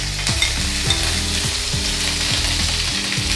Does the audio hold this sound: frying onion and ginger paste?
yes